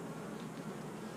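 Dense, steady buzzing of a large mass of honey bees packed on a hive frame, a continuous close drone with no talking over it.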